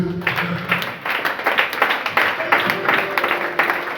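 A church congregation applauding during a French-language service, with steady rhythmic clapping from many hands that stays loud and even throughout, voices mixed in beneath it.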